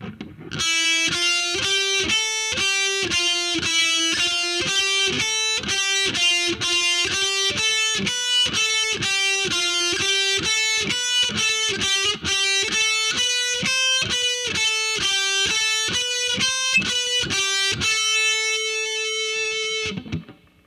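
Heavy metal lick on a distorted electric guitar at a slow, even pace, a long run of separately picked notes rising and falling, finishing on a held ringing note, loud and alone.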